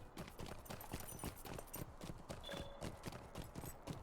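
Horse hooves clip-clop in Lord of the Rings Online, a quiet, steady run of hoofbeats in a brisk, uneven rhythm, heard alone with no talking.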